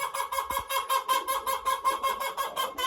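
Hen singing among the laying hens, a close, rhythmic string of about a dozen evenly spaced clucking notes repeating steadily.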